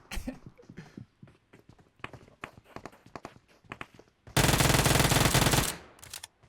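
Dense automatic gunfire rips out in a loud sustained burst in PUBG Mobile, following scattered footsteps and game clatter, then stops abruptly with a couple of trailing shots.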